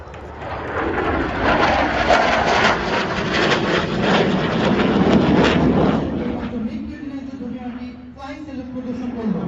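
Russian-built MiG-29 fighter jet in a flying display at a Bangladesh air show, a loud roaring rush that swells and then fades as it passes, with a commentator's voice over it.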